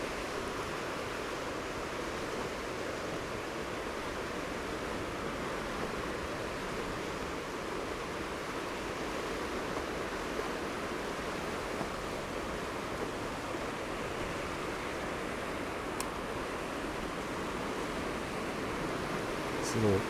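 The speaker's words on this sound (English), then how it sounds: "This little rapid here is pretty nice." A small rapid on the Gallatin River in Montana rushes steadily, a broad, continuous wash of white water close by with no pauses.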